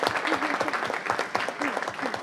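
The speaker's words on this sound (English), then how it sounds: "Let's give her a round of applause as well." Applause from the audience at a city council meeting, many hands clapping steadily with voices speaking and calling out over it in a reverberant chamber.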